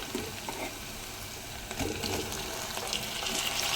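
Onions frying in oil in a home kitchen pan for a Telugu colocasia (taro root) tamarind stew, a steady, soft sizzling hiss held evenly with no talk.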